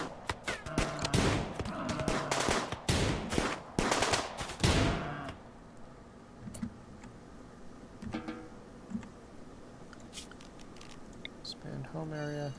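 Rapid bursts of gunfire crackle from a firing line in the colony-building game RimWorld, dense volleys packed into the opening seconds before thinning to scattered, fainter shots under a low background.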